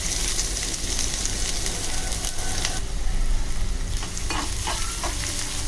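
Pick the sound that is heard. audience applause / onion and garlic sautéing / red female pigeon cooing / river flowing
onion and garlic sautéing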